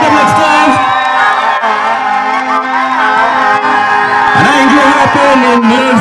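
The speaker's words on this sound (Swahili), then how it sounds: "Makofi tafadhali mashabiki wa Singida Black Stars." A crowd of Singida Black Stars supporters cheers and shouts loudly and continuously at a championship celebration, with raised voices swelling near the end.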